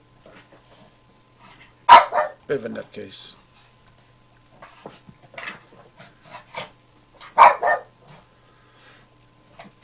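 A dog playing with bubbles lets out a couple of sharp, loud barks several seconds apart. A person speaks nearby, with scattered light clicks.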